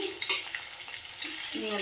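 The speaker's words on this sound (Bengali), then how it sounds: "তেলের মধ্যে কাঁচা লঙ্কা ভাজলে দেখবে একটা খুব সুন্দর গন্ধ বেরোয়" Green chillies frying in hot oil, a soft continuous sizzle with light stirring scrapes, fairly quiet and close.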